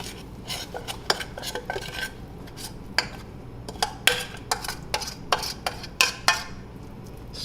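Cornbread batter is scraped and spread around a pan with a utensil, giving a string of quiet clinks, taps and scrapes against the metal at an uneven rhythm.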